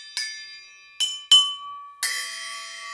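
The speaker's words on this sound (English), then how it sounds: "We now have a small collection of bells." Four bells struck one after another at uneven intervals, each ringing out bright and clear; the last rings on, shimmering and sustained.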